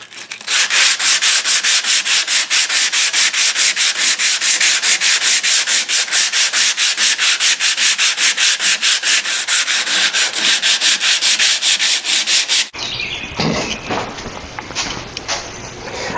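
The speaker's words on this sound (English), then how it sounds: "What I'm doing here is just sanding it down" A handmade knife blade is sanded with fast, rhythmic rubbing strokes, loud and close, in a steady back-and-forth pattern before a brief change to a lighter scraping texture at the end.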